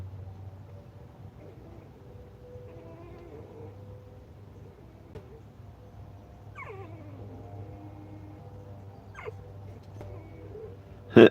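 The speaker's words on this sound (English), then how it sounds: "Puppy's making all kind of weird noises." A puppy gives a few brief, faint whimpering cries with odd rising and falling pitch, spaced apart over a steady low background hum.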